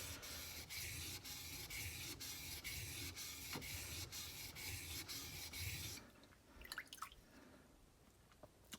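A Sloyd knife blade is rubbed along a sharpening stone in quick, regular rasping strokes for about six seconds, then the scraping stops and a few light taps and handling sounds follow.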